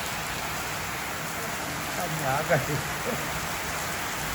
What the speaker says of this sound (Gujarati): મુસળધાર વરસાદ.